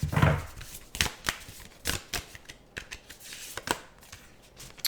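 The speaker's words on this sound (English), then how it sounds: "This right here is Shine from the Inside Oracle cards." A deck of Shine from the Inside oracle cards is shuffled by hand, giving a run of crisp riffling flicks and soft slaps at an uneven rhythm. The sound is close and fairly quiet, with no talking.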